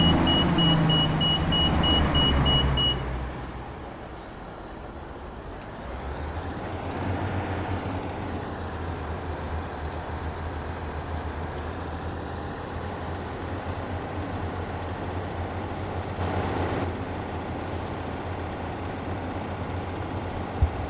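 Class 220 Voyager train passing in Train Sim World 6, a steady low rumble that holds for about twenty seconds after a brief louder opening burst, with no one talking.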